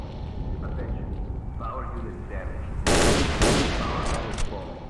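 Automatic weapon fire in S.T.A.L.K.E.R.: Shadow of Chernobyl: two loud, short rattling bursts in close succession over a constant low game-ambience drone, with a voice talking.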